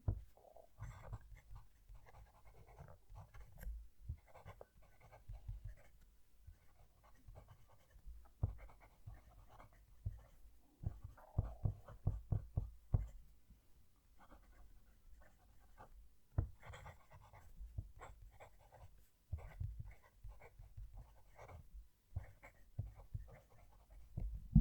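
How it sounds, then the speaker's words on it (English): Leonardo Furore fountain pen nib writing on paper, captured close by a microphone at the page: soft, intermittent scratching strokes with pauses, faint and delicate throughout. "I'm going to move the mic down to the page so you can hear the pen writing."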